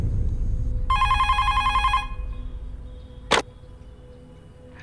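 A telephone bell rings in one sharp electronic burst of about a second, followed by a brief loud click or knock and quiet room tone.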